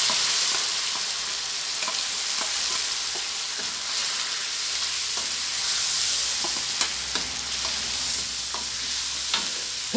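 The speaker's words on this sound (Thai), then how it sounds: "จะใส่ปลากระป๋องลงไปเลยนะพวก" Canned fish hits a hot pan for a spicy Thai-style salad, a steady close sizzle of frying with repeated scraping stir strokes and small clicks of a utensil against the pan throughout.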